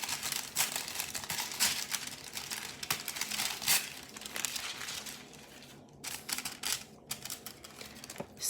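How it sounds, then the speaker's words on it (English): Collage paper is torn and crinkled by hand up close, a run of papery rips and rustles in irregular bursts with short pauses between them, loud and near with no talking. "I'll rip this one."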